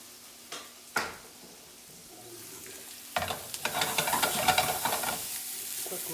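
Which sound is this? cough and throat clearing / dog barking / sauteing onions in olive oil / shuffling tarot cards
sauteing onions in olive oil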